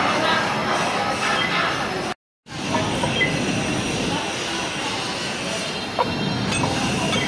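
Rumbling of an LRT train at a station in the Philippines, a steady rail roar with a brief squeal, heard up close with no one speaking.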